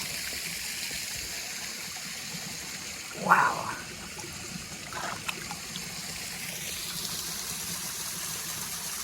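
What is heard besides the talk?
water flowing at Yellow Spring, Yellow Springs, Ohio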